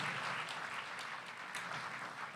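Faint, brief clapping from a small audience applauding donors during a live fundraising auction at a brain research charity gala.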